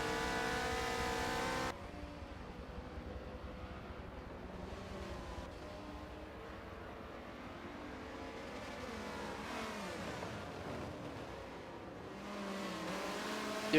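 Race cars in a multiclass event at Sebring roar around the circuit, engines droning and shifting pitch as they accelerate and pass, a loud steady layered engine noise with one car sweeping by near the end.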